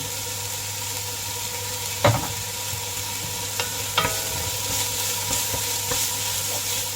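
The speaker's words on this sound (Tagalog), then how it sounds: "Igisa lang natin ang sibuyas ng mga 20 seconds hanggang mag 20 to 30 seconds" Onions are sautéed in a pan for Filipino ginataang laing, a steady close sizzle of oil with a few sharp spatula knocks and scrapes against the pan, and no voices.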